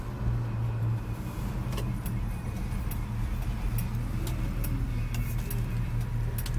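A 1968 Plymouth Road Runner with 28K original miles drives along, its engine a steady low rumble from inside the cabin with faint ticking rattles over the continuous road noise.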